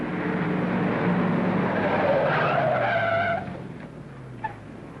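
A 1940s car brakes hard and pulls up sharply, tires squealing in a rising skid over a loud engine before the noise drops off as it stops.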